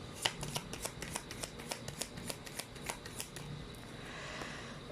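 Tarot cards are shuffled in quick, crisp riffles, a rapid run of sharp flicking snaps up close that thins into softer sliding rustles near the end.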